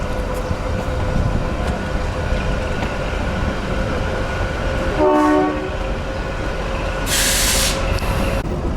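A Himalayan passenger train rumbles loudly as it pulls into a station, its horn sounding a short harmonic blast partway through over the steady rolling din, followed by a burst of hissing air.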